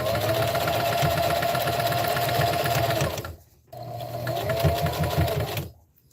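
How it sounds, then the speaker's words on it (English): A sewing machine stitches fabric around a dish drying mat, a loud, even mechanical whir that runs, stops briefly, runs again and then stops. "And now I'm sewing one of my shorter sides."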